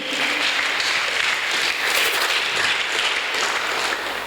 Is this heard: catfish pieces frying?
no